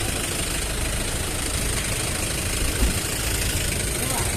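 Vehicle engines idle in a stalled traffic jam near Muglin, Nepal, a steady dense low rumble with constant broadband road noise, close and unbroken throughout.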